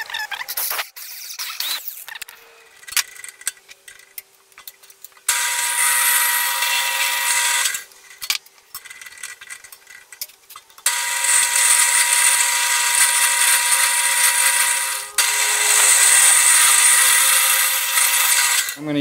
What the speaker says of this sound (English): So I'm going to drill down through like that.